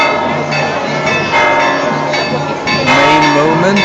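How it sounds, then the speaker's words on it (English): Church bells ring from a bell tower in Vilanova i la Geltrú during the opening of the Festa Major. The sound is a continuous, dense wash of overlapping metallic tones that is loud and fills the whole stretch. "the church bells are ringing"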